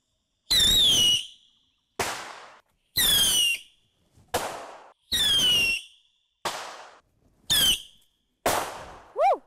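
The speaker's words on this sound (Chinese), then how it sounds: "放鞭炮真的是太好玩了" Firecrackers set off outdoors in Yilan, Taiwan: eight sharp bursts in a steady series, each opening with a shrill whistling squeal and ending in a crackling pop, loud and close with short silences between.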